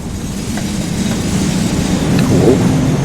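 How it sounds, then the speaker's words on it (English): An approaching train in Train Sim World 5 on the Mittenwaldbahn, hauling an ÖBB 1020 Krokodil, rumbles as a low, steady, swelling roar that grows slightly louder toward the end, with faint rail clicks and no voices. "Here comes the train."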